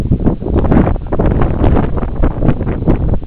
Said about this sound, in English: It's windy, Inday.